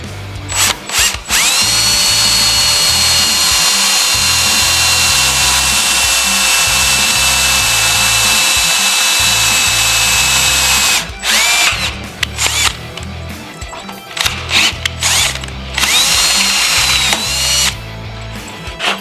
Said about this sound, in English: Now we're going to go ahead and drill our frame and tap our holes.